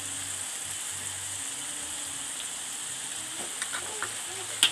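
Fried anchovies sizzling in a pan with a steady crackling hiss, a low hum underneath, and a few light scrapes of stirring near the end.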